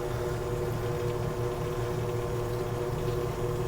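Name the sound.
engine of a Makita G4101R generator with Robin (Subaru) engine running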